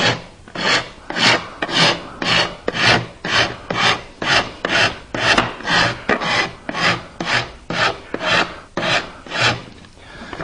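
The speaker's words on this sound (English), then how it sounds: "Where's the rasp?" A woodworker's rasp rounds over the small wooden corners of a knife caddy in about twenty even back-and-forth strokes. Each stroke gives a close, loud, coarse scrape in a steady rhythm, with no voices.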